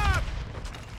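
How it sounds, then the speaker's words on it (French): A grenade blast in Call of Duty: Modern Warfare III multiplayer lands as one sharp, loud burst that quickly decays into a short rumbling tail. "Je lance une grenade!"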